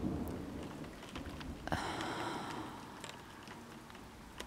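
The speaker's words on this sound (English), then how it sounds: "The rain's nice, at least." Heavy rain pounding down steadily in a thunderstorm, with a brief sharper crack or rumble partway through, continuous and fairly even throughout, no voices.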